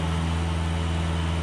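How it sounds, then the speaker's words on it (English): A small Mercedes OM636 diesel auxiliary engine, used to help start the main V8 of a Swiss armored recovery vehicle, idles close by with a steady, even drone and a strong low hum, with no talk over it. "What you're hearing right now is a small Mercedes OM636 engine"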